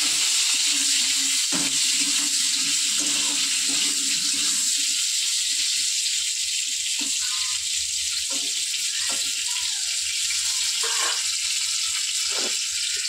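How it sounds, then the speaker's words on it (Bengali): Pointed gourd (potol) frying in a pan, a steady continuous sizzle heard close up throughout, with occasional faint clatters and no talking. "তো পটলটা ভাজা হোক"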